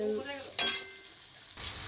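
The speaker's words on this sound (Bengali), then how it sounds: "এটা আমার লাল লাল করে ভাজা হয়ে গেছে" Goat fat frying in a pan until red, with steady sizzling and loud hissing bursts as food hits the hot oil, close by and without talk.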